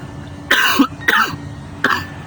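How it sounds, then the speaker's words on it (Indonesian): Three separate coughs, close and loud, spaced by short pauses, with a quiet room behind them. "Maaf, batuk."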